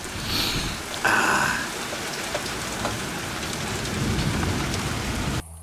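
Steady rain falling at night outdoors, a dense continuous hiss with a few louder splashes and patters near the start, close and fairly loud, with no voices.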